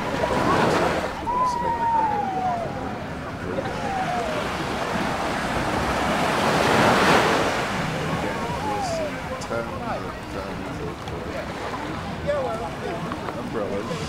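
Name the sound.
ocean waves breaking on a beach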